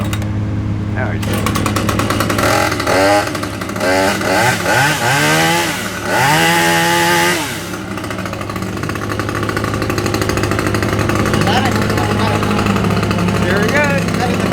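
A chainsaw with a cold motor cuts into a tree in Murphy, North Carolina. The loud, close engine roars and revs in rising and falling sweeps as it bites the wood, running continuously with voices at times.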